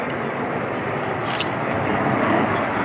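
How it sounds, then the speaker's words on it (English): An Avro Vulcan XH558 jet with four Rolls-Royce Bristol Olympus 202 engines on a flypast at RIAT 2015, a loud, dense, continuous roar swelling slightly toward the end, with no voices. "And that was the sound of 4 Rolls-Royce Bristol Olympus 202 engines"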